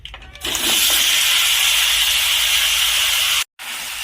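Spice-marinated raw crab hits hot oil flavoured with fried dried red chillies and black cumin, setting off a loud, steady, close sizzle that breaks off briefly near the end and then resumes.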